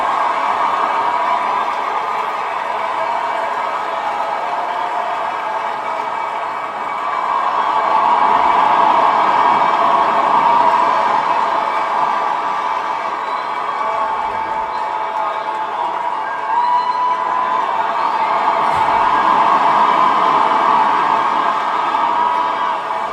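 A large crowd at a public gathering with a former Nigerian president present, shouting and clapping in a sustained, even roar that swells slightly midway and holds steady throughout.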